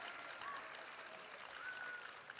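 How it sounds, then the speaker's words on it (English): An audience at an arangetram dance recital applauds the accompanying musicians, a soft, continuous patter of clapping heard from a distance, faint and even throughout. "And one final big round of applause for the musicians."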